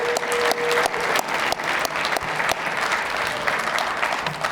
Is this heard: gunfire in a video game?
no